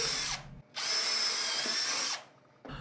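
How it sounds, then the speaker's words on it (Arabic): A power drill bores holes in wood while building a drill press table, two long loud whirring runs close by, each starting and stopping abruptly, with no talk. "فالاول هنحفر بالشنيور كام ثقب"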